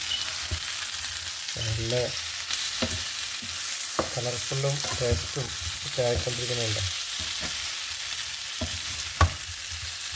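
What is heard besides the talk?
liver frying and being stirred in a pan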